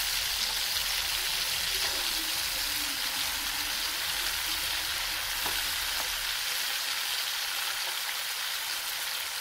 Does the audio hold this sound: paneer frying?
yes